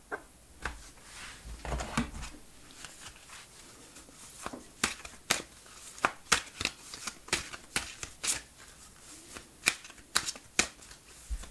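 Oracle cards shuffled by hand during a pick-a-card reading, giving a long run of crisp, irregular riffling snaps and slaps, close and fairly loud, with no talking.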